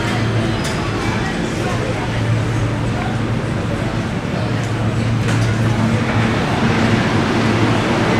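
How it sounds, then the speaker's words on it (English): Steady, loud rumble and rattle from inside a moving Shanghai metro train, a continuous roar of wheels and carriage noise with faint tonal hums throughout. "I'm on the train."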